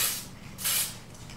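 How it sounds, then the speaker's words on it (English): Two short hissing blasts of an aerosol can of gold spray paint onto a painting, close up, the second slightly stronger, with a soft pause between. "this is going to be the gold spray."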